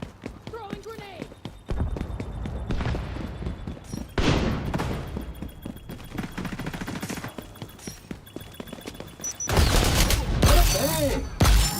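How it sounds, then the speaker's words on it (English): A thrown grenade and gunfire in the XDefiant open beta: rapid bursts of shots rattle throughout, with a louder, heavier blast near the end and voices talking over the fighting. "Throwing grenade."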